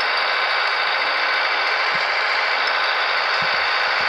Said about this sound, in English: Yeah, it's a very noisy tractor at night still.